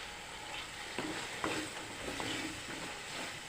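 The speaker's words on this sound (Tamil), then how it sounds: "இது நல்லா வதங்கட்டும் இன்னும் ரெண்டு நிமிஷம் வெயிட் பண்ணலாம்" Onions and tomatoes with a little mint and coriander sauté in a pan, giving a steady soft sizzle with a few light stirring scrapes, close and fairly quiet, no talking.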